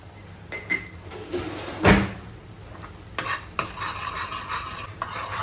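Homemade masala and turmeric are stirred in a hot pan for chole, giving a series of close scraping strokes with a louder sweep in the middle and a faint sizzle underneath.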